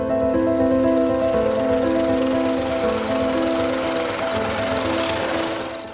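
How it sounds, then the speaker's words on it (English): A chanfa stone-crushing machine grinding rock into fine sand at an illegal gold mining site in Ghana, a loud, steady mechanical drone with humming engine tones and a harsh rattling roar throughout. "The stones are crushed by the widely used chan fra into small pieces until a fine sand"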